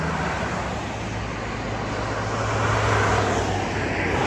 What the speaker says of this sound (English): that's so many cars.